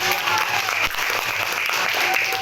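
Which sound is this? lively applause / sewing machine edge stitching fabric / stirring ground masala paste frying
lively applause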